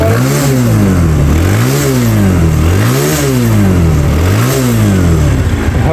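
An Apache RTR 150cc motorcycle engine runs up and down in repeated rev cycles, swelling and falling about every one and a half seconds, loud and close with a steady mechanical roar.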